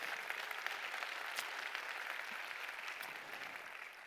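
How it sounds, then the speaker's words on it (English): An audience at a digital-themed event gives a round of applause, a dense, steady wash of clapping that holds evenly for a few seconds with no voices over it. "it deserves a round of applause, yeah, from everyone here"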